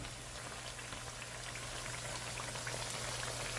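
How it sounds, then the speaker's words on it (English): Plantains frying a second time in hot oil, a dense steady crackle and bubbling sizzle that holds evenly close by, loud and continuous with no talk over it. "it doesn't take long to get fried on the second round"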